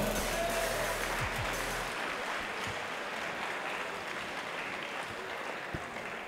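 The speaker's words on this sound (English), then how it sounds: "round of applause for both warriors" Crowd applause for both fighters after a two-round bout at a FIGHT UK event, a broad steady wash of clapping and cheering filling the whole stretch at moderate loudness.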